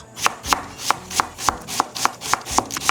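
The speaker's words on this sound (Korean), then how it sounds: "무 200g 한 토막 준비해 주시는데요, 나박 썰어서 준비해 주세요" A knife chops a 200 g chunk of radish into thin square slices on a board for fish cake soup, with about ten crisp, evenly spaced strokes falling close and clear with no talking.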